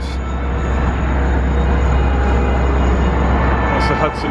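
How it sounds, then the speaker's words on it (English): Subway and Amtrak trains pass near the High Line in New York City, making a loud, continuous rumbling roar mixed with wind, with a faint voice underneath. "Subway train, all the Amtrak trains."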